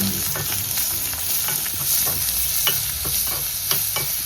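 Garlic and green chillies fry in a hot pan, a close, continuous sizzle broken by repeated scraping stirs of a spoon, with no voices.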